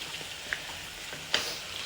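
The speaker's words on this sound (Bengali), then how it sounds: "তো এখানে আমি গরুর ভুঁড়িটা ভাজা ভাজা করে নিচ্ছি।" Beef tripe frying in a pan gives off a quiet, steady sizzle, broken by two sharp little pops close by.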